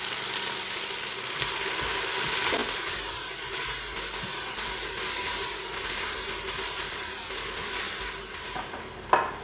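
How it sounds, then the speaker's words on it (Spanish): Onion sautés in hot oil in a pot with a steady, close, even sizzle throughout, joined by a few light utensil clinks and a brief clatter at the end. "Vamos a echar la cebolla y vamos a rehogarla un poco."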